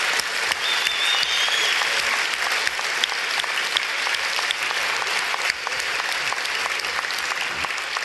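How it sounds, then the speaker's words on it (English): A large audience at a science talk bursts into sustained applause, dense and even clapping filling the hall from start to finish with no break. "Please, another round of applause for Professor Dawkins and Dr. Tyson."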